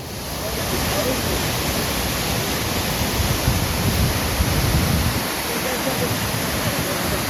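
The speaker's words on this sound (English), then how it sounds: "This is the water from the waterfall here." A waterfall near Skagway, Alaska roars as a constant, broadband rush of falling water, loud and close, with no breaks and little variation in level.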